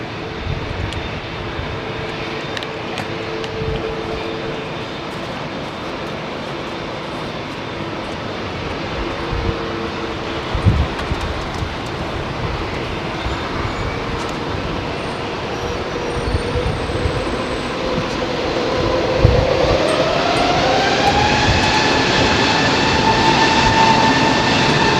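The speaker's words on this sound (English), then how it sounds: "Nice jet, nice and noisy." A loud jet airliner with CF6 engines roars steadily at Heathrow, the engine noise building and swelling toward the end as it passes close by, with no talk over it.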